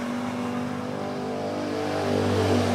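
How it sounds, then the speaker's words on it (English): Steady traffic on a busy main road outside a dental care clinic, a continuous engine drone and hum swelling slightly louder toward the end as a vehicle draws near. "It's noisy here because we're on the main road."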